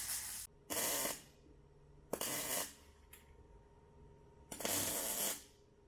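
Welding on a car exhaust, a Chevy-solution repair of an E9X M3 exhaust leak, gives four short crackling hiss bursts of about half a second to a second each, close by, separated by quiet pauses.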